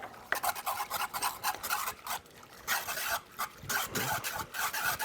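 Granulated sugar being whisked into pickling liquid, a quick, close scraping and rasping with short rhythmic strokes and brief pauses, moderately quiet, with no voices.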